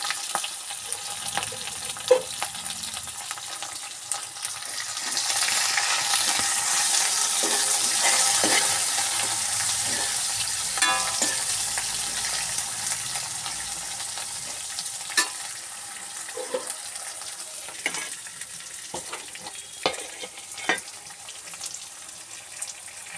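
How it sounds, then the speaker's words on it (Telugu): Horse gram broth (ulavakattu) bubbles and sizzles in a pot while a utensil stirs and scrapes through it, a steady close simmer with intermittent clinks and taps. "ఉలవకట్టు ఉడుకుతుండేటప్పుడు అండి"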